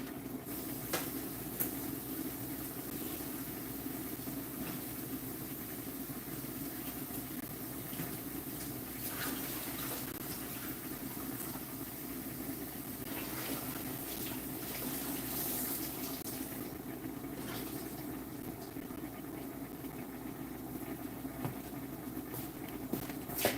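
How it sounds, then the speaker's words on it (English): Tap water runs steadily in a home kitchen as food is rinsed under the stream, a continuous splashing patter at moderate level throughout with no one talking. "I'm going to put this under running water"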